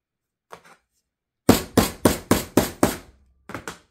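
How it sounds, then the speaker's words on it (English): Steel leather cutting die struck by a hammer: one light tap, then a run of six loud, evenly spaced heavy blows, a pause, and two more quick strikes, close and sharp in a quiet room. "I'm about to hammer"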